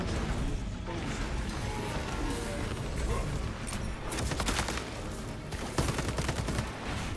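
Dense rapid gunfire and heavy blasts go on without pause in a Warhammer 40K shooter, including a pyreblaster weapon, loud and close.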